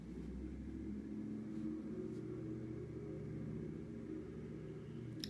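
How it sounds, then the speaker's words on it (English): A loud truck idles outside with a deep, steady engine rumble that holds constant for several seconds, muffled as if heard through walls, and no voices. "Somebody has a very loud truck outside."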